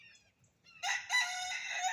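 Chickens on a homestead give a loud, close rooster-like cackle that runs on without a break after a few faint chirps, set against a quiet background.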